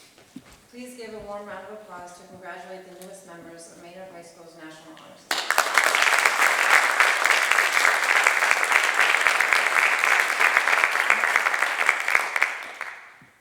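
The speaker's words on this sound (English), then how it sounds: "Please give a warm round of applause to congratulate the newest members of Maynard High School's National Honor Society." A high school auditorium audience at a National Honor Society induction ceremony bursts into loud, sustained applause right after a spoken announcement, clapping steadily for about eight seconds before it fades out.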